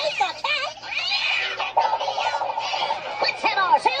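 A cat yowls and meows repeatedly with wavering, sliding pitch, fairly close, over several seconds against a faint low hum.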